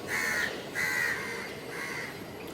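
A crow caws three times in a steady rhythm, harsh and moderately close over a quiet background.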